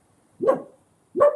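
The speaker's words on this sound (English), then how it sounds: "I've got my dog TJ with me" A dog barks twice, close and clear, each a short gruff bark about three-quarters of a second apart, with quiet in between.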